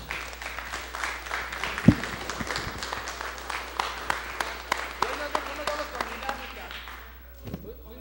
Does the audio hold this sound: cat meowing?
no